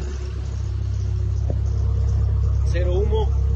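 A car engine running after an oil change with SAE 50 oil and stabilizer gives a steady low rumble up close, with a brief click and a short voice near the end.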